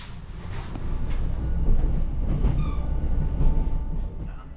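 A train leaving Jecheon Station in South Korea rumbles steadily along the tracks toward Yeongwol, with a low rolling roar and faint high squealing tones from the wheels.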